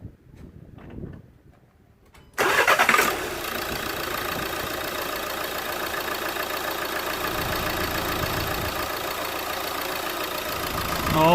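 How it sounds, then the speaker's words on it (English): A Renault Megane III 1.5 dCi diesel engine cranks and starts with a sudden burst, then settles into a steady, rough idle that continues to the end. "So let's gonna start the engine."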